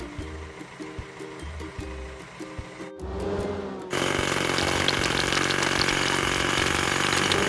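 Hydraulic hammer in a children's vehicle video game pounding and cracking large rocks, with rhythmic mechanical thuds at first, then a steady, loud, dense crushing and grinding roar that fills the rest.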